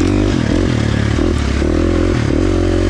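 A 2023 KTM 350 XC-F four-stroke dirt bike engine runs loud and close, a thick throbbing exhaust note with slight dips and surges in pitch as the throttle varies.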